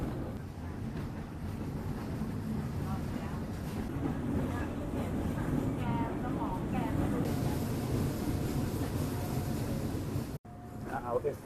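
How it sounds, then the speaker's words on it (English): A train carriage rolling along Thailand's Death Railway toward Nam Tok, a continuous low rumble with rattling and wind noise that runs steadily before a brief cut near the end. "clickety-clackety carriage that's just going to roll through the countryside"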